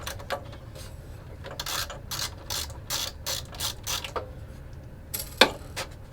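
Ratchet wrench loosening the two nuts that hold down the slide-out tray of an SSL Duality mixing console in a recording studio, giving bursts of quick clicking ratchet strokes at close range, with a sharper metallic clack near the end.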